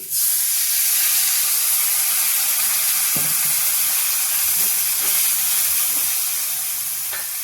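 A loud, sustained hiss and sizzle, like water hitting a hot pan, holds steady throughout, with a few faint knocks beneath it.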